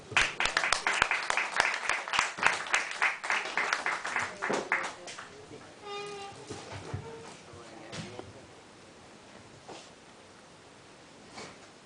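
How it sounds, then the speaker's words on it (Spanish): An audience at an arts café event applauds a visual artist, with strong, rhythmic clapping from a small crowd that tapers off after a few seconds into quieter room sound. "un aplauso para el artista visual"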